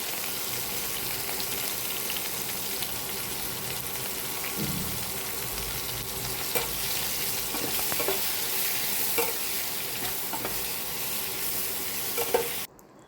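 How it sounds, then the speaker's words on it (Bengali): Chopped tomato and potato fry in hot oil in a pan, a dense, even sizzle running throughout with a few spoon knocks and stirs, close and steady until it cuts off at the end. "টমেটোটা দিয়েও আরও একটু ভেজে নেব"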